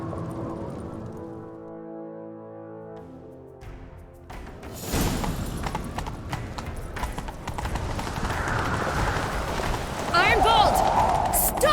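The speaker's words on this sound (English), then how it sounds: "Grab a horse, we'll chase him down." Rapid hoofbeats of a galloping horse in The Witcher 3: Wild Hunt build and grow louder over a rumbling background, with a brief whinny-like tone near the end.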